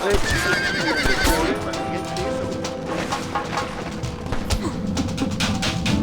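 Horses in the video game Red Dead Redemption neigh loudly and whinny amid rapid galloping hoofbeats, with shouting voices over the action.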